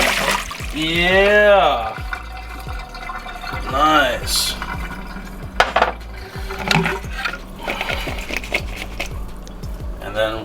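Boiled Nissui frozen edamame and hot water are poured into a strainer, giving a gushing, splashing pour with drips and rattles, while people talk over it.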